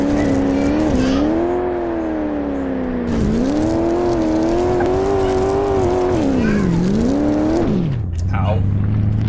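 A car engine drives in Car Mechanic Simulator 2018, with the steady whine rising and falling as the car accelerates and eases off, dipping low near the end, with a voice talking over it.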